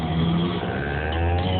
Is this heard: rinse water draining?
no